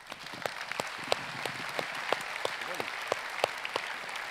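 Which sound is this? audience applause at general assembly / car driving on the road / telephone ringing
audience applause at general assembly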